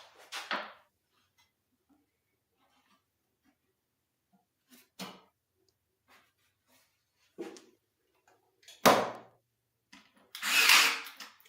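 A nail gun fires in a woodworking shop: a handful of sharp, isolated bangs spaced irregularly across the quiet, with the last burst louder and longer.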